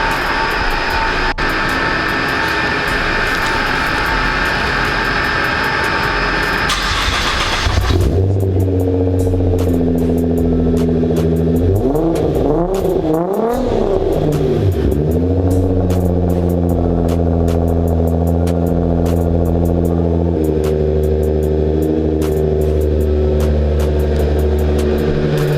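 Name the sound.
cold start of a tuned 700 horsepower supercar engine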